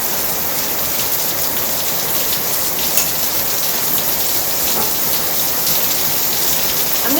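Heavy rain pours down steadily in a dense, unbroken roar of drops drumming on surfaces, loud and close throughout with no voices.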